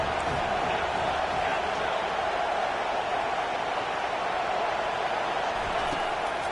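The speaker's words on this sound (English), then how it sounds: "Decibels rising as the crowd gets behind this defense on 3rd down." Steady roar of a large stadium crowd at a Hawaii vs Miami college football game, rising behind the defense on third down; dense and sustained with no clear breaks and no distinct voices.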